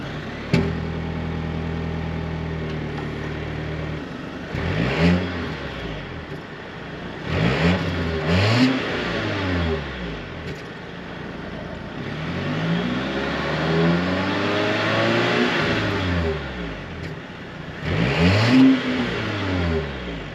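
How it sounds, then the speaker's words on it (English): A 2025.5 Volvo XC90's turbocharged four-cylinder exhaust idles, then revs up repeatedly in rising and falling bursts, heard close at the tailpipe with no talking. "take a listen to how this turbocharged 4-cylinder sounds at the tailpipes"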